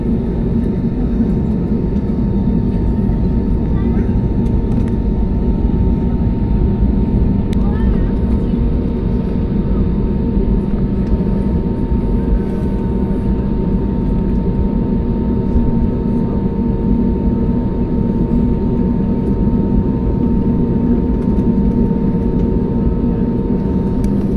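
Loud, constant aircraft engine drone at an airport fills the scene, a deep steady roar with faint voices underneath.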